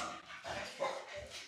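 A pet dog gives short whimpers and soft yips in a few bursts, moderately close, with some voice-like sound mixed in.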